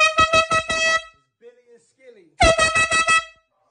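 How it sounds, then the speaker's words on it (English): Two loud blasts of a rhythmic, pulsing air horn, close and harsh, with a short quiet gap between them that holds a faint voice. "Where the air horn at?"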